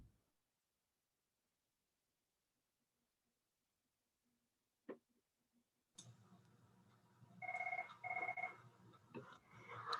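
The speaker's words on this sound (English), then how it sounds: "sorry, my phone's ringing" A mobile phone rings during a meeting: a faint tick, then from about six seconds a louder burst of repeated two-tone ringing pulses over broadband noise close to the microphone.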